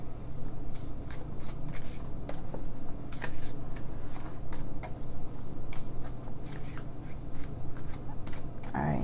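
Tarot cards are riffled and shuffled by hand, with repeated crisp bursts of card flutter throughout, close and fairly loud, while a voice murmurs underneath.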